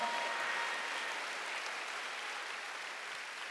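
Church congregation at a Wednesday service claps together, a dense steady wash of many hands filling the room evenly throughout, moderately loud and slightly distant, with no voice over it.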